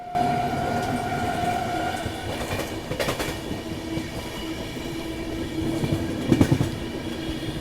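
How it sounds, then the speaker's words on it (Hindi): A Rajdhani Express passenger train runs steadily with a continuous rumbling roar and rhythmic wheel clatter, a brief burst of clacking near the middle and a louder clunk toward the end, heard from on board. "पर अंत में ट्रेन स्लो हो जाती है"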